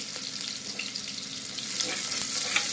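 Finely chopped onions frying in hot oil for Nati style mutton sambar, a steady close sizzle with light stirring that grows slightly louder toward the end, with no voices.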